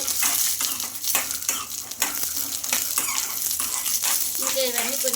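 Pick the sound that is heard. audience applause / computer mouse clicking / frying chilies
frying chilies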